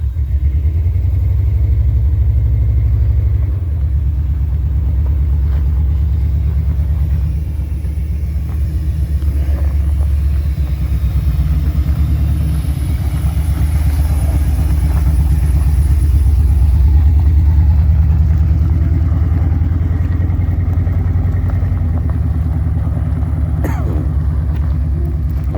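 A 1995 GMC truck on a short test drive after a transmission swap, its engine a steady low rumble throughout, fairly loud and close with no one talking.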